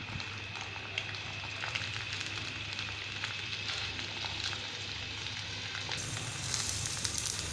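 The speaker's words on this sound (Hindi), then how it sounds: "अब हम इसके अंदर अंडा ऐड कर देंगे और इसको मीडियम आंच पर पकाएंगे 2-3 मिनट के लिए" An egg fries in a pan over medium heat, a close, continuous crackling sizzle with small pops scattered throughout, steady and unbroken for several seconds without any talk.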